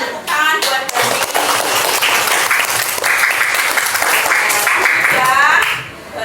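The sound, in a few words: classroom applause for a student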